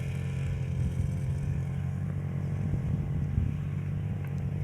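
A farm tractor about seven or eight years old, in good condition, runs its engine at a steady low idle with a continuous rumble and light mechanical clatter, close by, with no talk over it.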